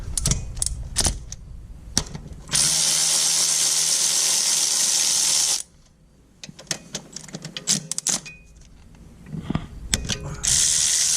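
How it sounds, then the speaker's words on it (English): A hand ratchet undoes slave cylinder bolts on a 2008 Subaru Impreza during engine removal, with bursts of rapid close clicking pawl sounds, a long steady hiss in the middle, then more clicks and clunks. "We'll take the 2 bolts out of the slave cylinder and just move it out of the way."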